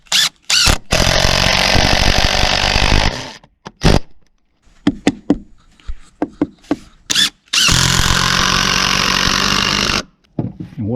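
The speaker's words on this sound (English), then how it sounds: "I'm going to run some torque screws in there" A power driver runs torque screws into wooden braces while a sawmill shed is built, giving two long loud whirring drives separated by short bursts and knocks, with no talk.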